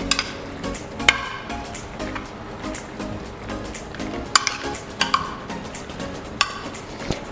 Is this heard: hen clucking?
no